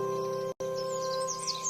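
Birdsong in the woods used as a storybook sound effect, light chirps and tweets scattered through the upper range over steady background music, with a brief dropout near the start and no talking.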